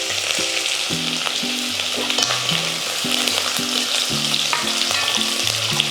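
Three small onions crackle in hot oil with mustard seeds for a mango curry, a steady bright sizzle running throughout beneath a melodic music track.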